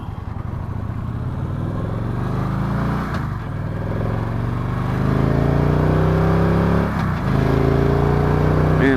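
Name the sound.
Victory Cross Country motorcycle riding off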